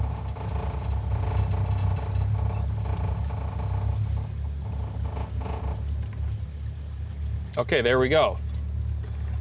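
Powerboat running aground while the throttles are pulled down: a low, steady engine rumble with rattling vibration under brief speech, then a short warbling whine near the end.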